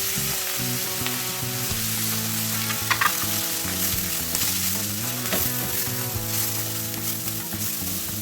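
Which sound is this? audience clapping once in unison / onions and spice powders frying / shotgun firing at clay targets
onions and spice powders frying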